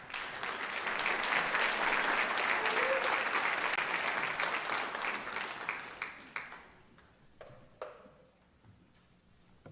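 A crowd at a high school graduation ceremony claps in a loud, sustained round of applause that thins out near the end into a few scattered claps in a large hall.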